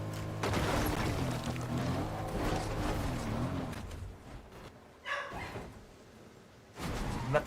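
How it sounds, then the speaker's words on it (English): A dog barks repeatedly indoors in a house, loud and close, with bursts of barking spread across the clip and brief quieter gaps between them. "You're not supposed to be barking in the house."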